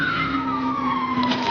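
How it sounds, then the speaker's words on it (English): A black and red Dodge Charger doing a burnout gives a sustained, loud tire screech, a steady high squeal with a sliding pitch and no talk. "an officer heard the unmistakable sound of tires screeching"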